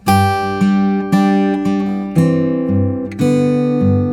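Fingerstyle acoustic guitar plays a slow phrase from a song, each plucked note or chord ringing clearly and decaying before the next, about six attacks in a measured rhythm, close and solo with no voice.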